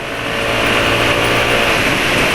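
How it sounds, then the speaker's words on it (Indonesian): A motorcycle engine running on Amsoil Signature oil thinned by fuel dilution gives a loud, close, rough-sounding continuous drone. It holds steady throughout with no talk. "Ini yang bikin suara mesin kasar."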